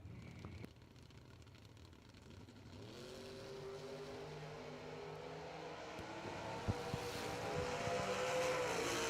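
Drag race cars, including a Corvette, launch at a drag strip. Faint, distant engines build up and rise in pitch, slowly growing louder toward the end.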